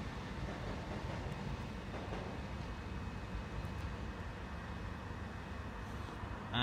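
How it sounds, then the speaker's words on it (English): A Southern passenger train passes through Haywards Heath station on its way to Brighton, giving a steady low rumble of wheels on rails. The sound holds at an even level from start to finish, with no voices over it. "there is a passing Southern service on the way to Brighton"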